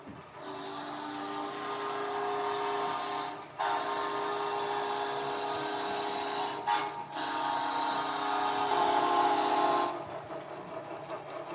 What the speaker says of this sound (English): Wabash 6 chime. Let's see how this sounds.